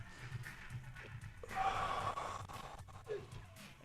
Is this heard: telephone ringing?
no